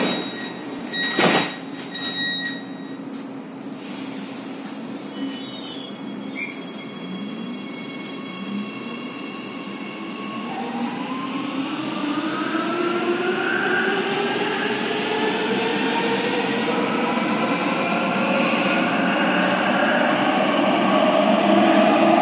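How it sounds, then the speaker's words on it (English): A new metro train in a modern Warsaw station pulls away with a rising electric motor whine and rolling wheel rumble that grows steadily louder and closer, after a sharp thump and door chimes early on. "the trains are some new metro trains"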